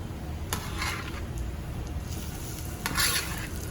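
Potato gnocchi sautéing with frying sage leaves in a pan over medium-high heat, a steady close sizzle broken by a few bright scraping stirs of a utensil against the pan.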